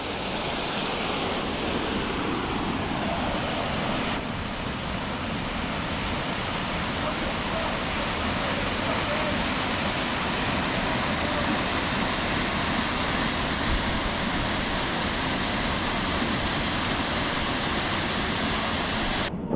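Rushing water of a waterfall in the Australian countryside, heard from a viewing platform, a steady broadband roar filling the scene throughout with some wind on the microphone.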